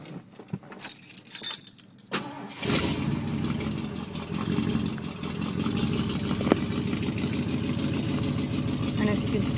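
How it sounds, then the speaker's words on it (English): Keys jangle inside a 1970 Ford Galaxie 500 before its engine cranks and catches, settling into a loud, steady, burbling idle through dual glass-pack exhausts. "Let's see if we can get it started. It's got dual exhaust glass packs."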